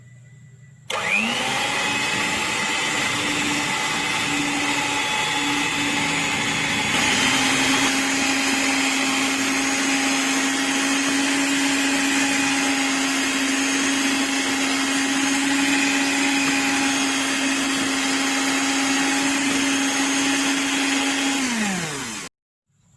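Electric mixer whirring steadily through cassava brownie batter, a loud continuous motor drone that starts abruptly, holds an even pitch for about twenty seconds, then cuts off.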